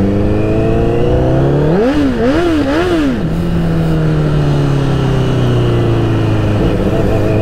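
Honda 1000RR superbike engine revving hard in short rising bursts while the rear wheel spins in snow, then settling to a steady, lower drone; loud and close throughout with no talking.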